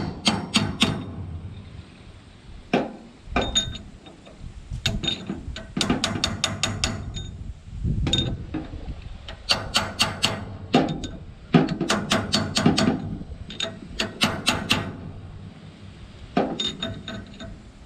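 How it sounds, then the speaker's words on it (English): A bearing is driven onto a shaft by hammering on a fitted piece of pipe, giving repeated sharp metallic clanks in irregular bursts of quick strikes with short pauses, close and fairly loud. "You just take a piece of pipe that fits over the shaft and drive the bearing on"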